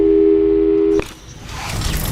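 A telephone call tone from the video game Portal 2 holds a steady, loud single pitch for about a second, then cuts off abruptly, leaving quiet low room ambience.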